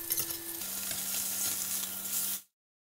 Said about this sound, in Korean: 소고기는 겉만 바짝 익혀주고요